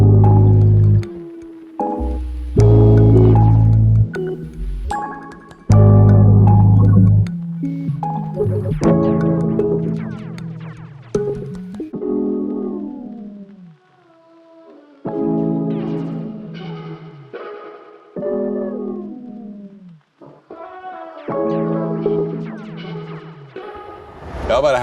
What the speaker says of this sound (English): I'm about to break down an organic R&B texture sample that sounds like this.